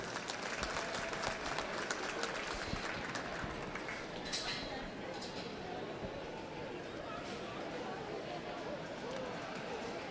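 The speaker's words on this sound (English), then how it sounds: "Let's give all these kids a big round of applause as they exit the ring." Crowd applause at a youth livestock goat show as children lead their goats out of the show ring, steady and sustained for the whole stretch, with crowd chatter mixed underneath.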